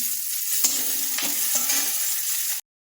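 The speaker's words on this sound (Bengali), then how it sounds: "ফোড়ন দিয়ে পেঁয়াজ লঙ্কা দিয়ে দিয়েছি" Onion and chili sizzle steadily in hot oil as the base for a fish curry, a close, bright hiss with a few spoon stirs and pops before it cuts off abruptly.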